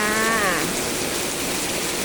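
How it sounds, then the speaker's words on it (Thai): Heavy rain falls steadily in Rayong, Thailand, a continuous close wash of hiss that holds throughout, with a short tonal call rising over it at the very start. "วันนี้ฝนตกอีกแล้วจ้า"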